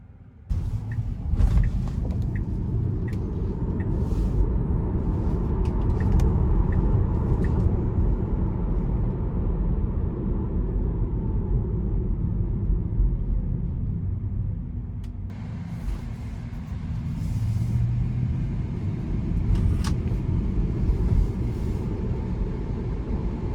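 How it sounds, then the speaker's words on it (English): A 2020 Tesla Model Y dual motor car drives on the road, heard from inside as a steady low rumble of road and tyre noise with a faint electric whine and occasional clicks and knocks. "take this Tesla Model Y dual motor out on the road for a quick test drive"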